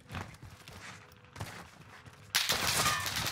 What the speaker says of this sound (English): I'm getting shot from the hill.